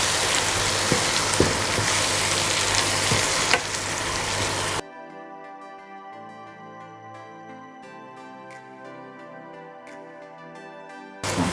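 Spices with chilies, turmeric and garam masala stir and sizzle in a pan, a dense, close frying hiss for several seconds that cuts off abruptly, giving way to background music.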